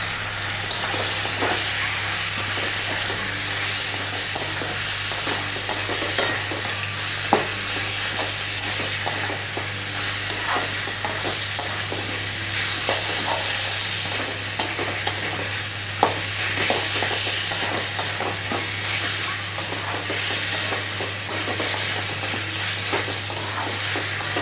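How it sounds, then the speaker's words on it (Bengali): Chicken pieces frying with onion, ginger and garlic for mango chicken, a steady loud sizzle with stirring scrapes and spatula clicks throughout, plus a constant low hum underneath and no voices. "আস্তে আস্তে নরম হবে, মাংস ভাজা হবে, পেঁয়াজটাও নরম হবে"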